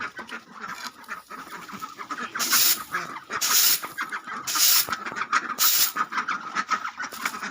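Chickens and ducks being fed cluck and squawk in a lively, overlapping chorus, with bursts of hissing noise cutting in repeatedly over the flock.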